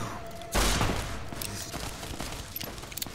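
Gatling gun fire in the video game Fallout: New Vegas opens with a sudden loud burst, then a rapid run of crackling shots that slowly fades.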